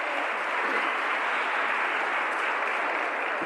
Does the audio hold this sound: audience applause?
yes